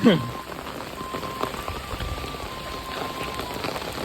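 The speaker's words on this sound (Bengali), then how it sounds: "বৃষ্টির মধ্যে ভিজে যাচ্ছে" Steady rain patters on a surface nearby, a continuous even hiss with a few louder drops at the start and end.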